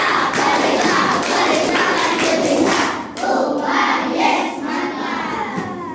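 A class of schoolchildren performs a rhythmic chanted clapping routine, many young voices and hands together in a loud, steady stream of claps and shouting that continues throughout.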